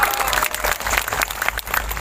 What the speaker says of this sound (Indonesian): Ya tepuk tangan sih ora apa-apa.